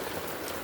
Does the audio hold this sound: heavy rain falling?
yes